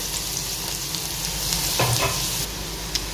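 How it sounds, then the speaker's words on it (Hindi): Onions frying in hot oil in a kadai, a dense, loud, steady sizzle with a few stirring knocks, no talking. "ऑयल हमारा गर्म हो चुका था, प्याज इसमें डाल दिए हैं।"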